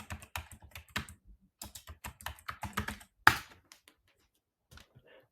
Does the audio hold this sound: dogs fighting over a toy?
no